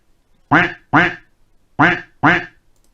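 A cartoon duck quacks as a reward sound in SENSwitcher switch-access software, four loud, clean quacks in two pairs against near silence.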